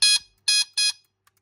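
Three sharp electronic beeps from a 1976 Mego Star Trek Super Phaser II toy, loud and close, the first alone and two more in quick succession, followed by a faint click.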